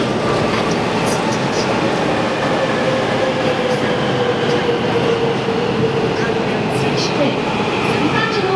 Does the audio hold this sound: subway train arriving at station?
yes